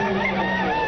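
Fighting roosters at a cockfighting bird market, a brief loud burst of crowing and clucking amid a dense, busy crowd din.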